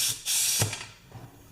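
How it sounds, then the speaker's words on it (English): An air blow gun plugged into the outlet of a DeWalt 4 gallon compressor that had been dropped gives a short, close burst of hissing air with a click of the fitting, then a brief fainter hiss. "We're going to take our blow gun and plug it into the outlet."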